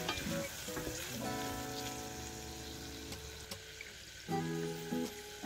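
Aromatics sauté in a pan while preparing fettuccine with béchamel sauce, a close, steady crackling sizzle with occasional stirring scrapes and brief tonal hums, and no voices over it.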